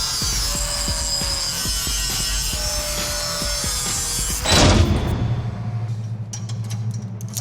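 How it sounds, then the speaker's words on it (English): Steel edges on the bed of a 1966 Chevy C-10 pickup are cleaned up and beveled with a power tool, giving a loud continuous grinding rasp with rhythmic ticks, then a sharp burst before it winds down. "We're going to clean these edges up and then bevel the edges inside and out for better weld penetration."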